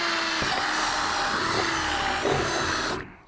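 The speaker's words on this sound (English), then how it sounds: "the first thing I'm going to do is drill a pilot hole so I can get my jigsaw blade through the shell" A power drill bores a pilot hole through the plastic shell of a Ride custom wheelchair back. Its steady, loud whine runs for about three seconds, then cuts off abruptly.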